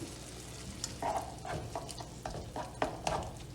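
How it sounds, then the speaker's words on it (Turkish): Chicken sautéing in a pan with butter and tomato paste, a soft continuous sizzle broken by regular scraping stirs about every half second. "Ve kavurmaya devam ediyorum."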